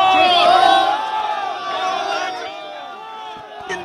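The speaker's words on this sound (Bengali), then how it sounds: "দুই দলের সমর্থকদের স্লোগান পাল্টা স্লোগান।" Rival political party supporters at a protest march trade loud, dense slogan chants, a continuous roar of many shouting voices close by, swelling and then easing slightly.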